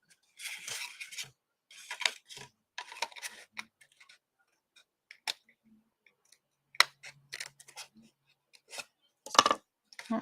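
Paper being trimmed with scissors during a card-making craft, with a series of short, crisp snipping bursts separated by quiet gaps and a few softer handling noises.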